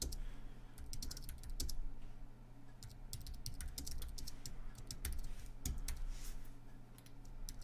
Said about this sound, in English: actually we'll just type this out